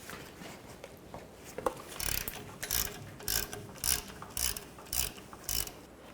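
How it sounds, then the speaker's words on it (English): A ratchet with a 13mm socket works loose a bolt on the rear brake of a 1999-2007 Chevy Silverado 2500, giving a steady series of about eight quick clicking bursts at an even rhythm, close by and fairly quiet, with no voices. "Take this bolt out right here, use a 13mm socket."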